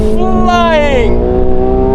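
A McLaren 750S engine revving hard on the Top Gear test track, loud and close with a rising then falling harmonic whine as it accelerates and shifts, under continuous talk.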